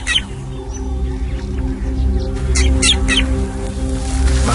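Drongo giving a false alarm call to meerkats, several sharp bursts of calling from about 2.5 to 3 seconds over a low steady background hum, fairly close.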